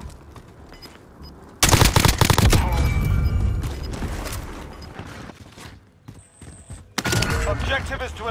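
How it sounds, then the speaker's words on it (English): Rapid bursts of automatic gunfire and single shots in the Call of Duty: Warzone battle royale game, loud and close, with sharp onsets after a quieter stretch, mixed with game sound effects and some talking. "He's getting shot by someone else, though."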